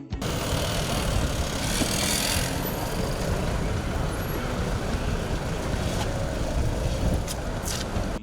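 Dense, steady roar of street traffic and engines in Dakar, where motorcycle taxis known as tchak-tchak ply the capital, loud and continuous with no single vehicle standing out.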